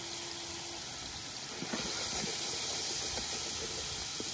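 A spice paste of chilli, ground cumin, turmeric, coriander powder and salt fries in a pan with a steady, low hiss and a few soft stirring scrapes partway through.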